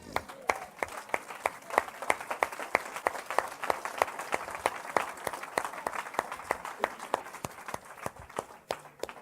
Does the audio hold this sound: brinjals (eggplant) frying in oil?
no